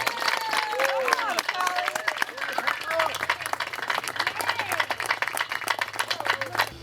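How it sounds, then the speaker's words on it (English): A round of applause for Kelly Smith at a depot naming ceremony: steady, fairly close crowd clapping sustained for several seconds, with voices and a low hum underneath. "I want to give him a round of applause."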